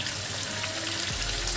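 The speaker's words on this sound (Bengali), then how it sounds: "এবার এর উপরে মশলা দিয়ে আমি আবার কষাবো" Spices sizzling as they are sautéed in a pan for Bengali yogurt chicken, a steady close frying hiss with a slight watery wash, and no talk.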